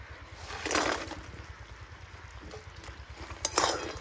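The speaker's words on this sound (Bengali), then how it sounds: "আমি এবার গজাগুলা চিনিতে দিয়ে দেবো।" Gaja pieces drop into hot melted sugar syrup in a pan, making a soft bubbling, low rumble with a few brief clinks and splashes, close, with no voices.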